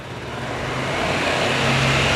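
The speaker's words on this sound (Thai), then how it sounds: "คันนี้จะคงเป็นท่อเดิมครับมาเสียงฟังเสียงท่อคันนี้กัน" A 2022 Honda ADV350 scooter with its stock exhaust revving, a steady loud engine hum that swells gradually, close to the microphone and without talk.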